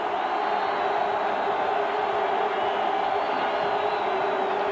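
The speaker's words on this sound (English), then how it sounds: "Now, closed end of the stadium with that big crowd roaring" A big stadium crowd roars at the closed end of the stadium during a 1988 BYU Cougars at Miami Hurricanes college football game, a dense, steady wash of cheering that stays loud and unbroken throughout.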